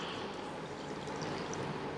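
A glass of water pours steadily over sugar in a pan for syrup, a soft continuous rushing stream heard close and alone.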